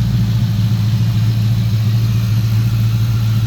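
A Coyote V8 swapped into a 1988 Fox-body Ford Mustang, with Gen 3 bottom end, Gen 1 top end and stage 2 supercharger cams, idles loudly and close in a deep, steady, slightly lumpy rumble.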